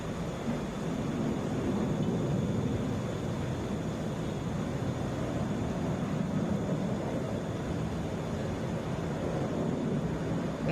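A Delta Airbus A320 rumbles at Atlanta International Airport as a broad, steady roar of jet noise with constant whining tones, loud and even throughout with no voices.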